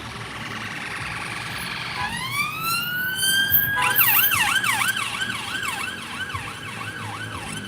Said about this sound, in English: There go the police.